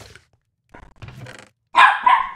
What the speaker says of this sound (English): Hey, you stop your barking